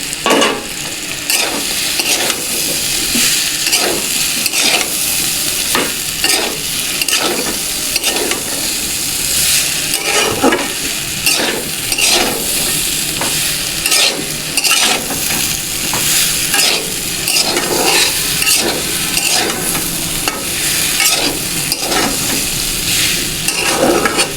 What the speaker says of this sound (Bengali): সয়াবিনগুলো দিয়ে ভালো করে নাড়াচাড়া করে নিলাম।